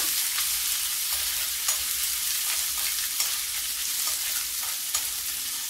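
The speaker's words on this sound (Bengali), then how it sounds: "পেঁয়াজটা কিছুক্ষণ আরো ভেজে নেব।" Onions frying in a pan for biryani, with ginger-garlic paste added, give a steady, close sizzle with small crackles and pops scattered throughout and no voices.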